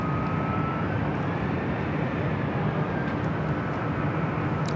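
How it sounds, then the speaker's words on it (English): A Cathay Pacific Boeing 777 jet at LAX airport gives a steady, loud engine roar and broadband rumble that holds constant throughout, with no talk. "Doing that Cathay Pacific and the One World 777 heading here to the north side."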